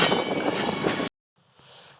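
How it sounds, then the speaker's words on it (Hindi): An Indian Railways WAG-12 electric locomotive approaches slowly near a new bridge at Alamnagar station. A loud rolling rumble with metallic clanks cuts off abruptly into silence, then a faint low hum returns. "हमारा वैग 12 देखिए धीमे धीमे आ रहा है।"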